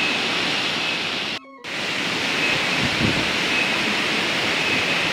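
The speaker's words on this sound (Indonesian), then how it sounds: "keras sekali aliran airnya, deras sekali" Rushing water of the tiered Git-git waterfall in Buleleng, Bali: a loud, constant roar of falling water, with a brief dropout partway through and faint low rumbles beneath.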